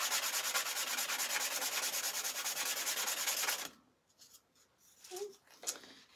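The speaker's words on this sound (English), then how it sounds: "take a sanding block" Steady rhythmic rubbing of a sanding block on wood for several seconds, then it stops, leaving quiet with a few faint knocks and handling noises.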